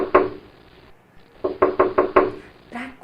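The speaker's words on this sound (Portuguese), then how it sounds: "Eles iam de casa em casa e batiam nas portas" Knocking on a wooden door, one early rap, then a quick run of five firm knocks after a pause, close and clear with no voices.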